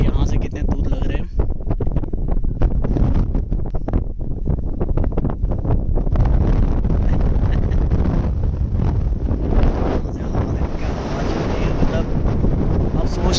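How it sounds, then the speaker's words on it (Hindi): Strong wind on the Idar Gadh mountain trek in Sabarkantha, Gujarat, roars and buffets the microphone steadily and loudly, with rushing gusts that rise and fall without a break. "सोच नहीं सकते इतनी खतरनाक हवा चल रही है।"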